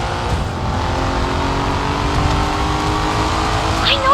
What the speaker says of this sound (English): Punch the throttle and let the engine roar.